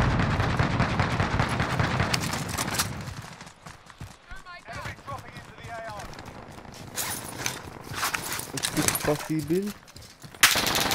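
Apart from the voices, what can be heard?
gunfire hitting the player in a video game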